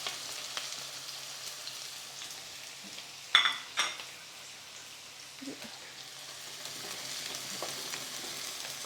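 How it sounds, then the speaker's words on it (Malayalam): Small onions and green chilies sizzle in hot oil for an inji (ginger) curry, a soft steady frying hiss with a sharp burst of crackling as the onions go in, then stirring. "ഇനി കൊച്ചുള്ളി ഇതിനകത്തോട്ട് ഇട്ട് മൂപ്പിക്കാം."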